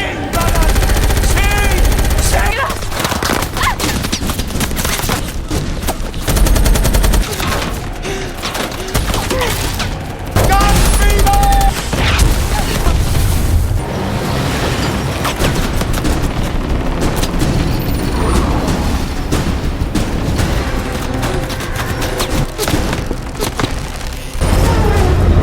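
Dense bursts of automatic gunfire and heavy booms from a film action scene, shots fired wildly during a chase, loud and continuous with a few brief lulls and some voices mixed in.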